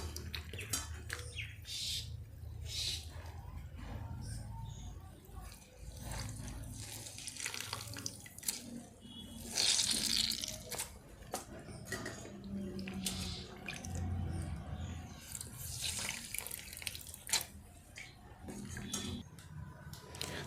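Soaked chickpea flour squeezed by hand to press the water out, a soft, faint wet trickling and splashing under steady low kitchen background.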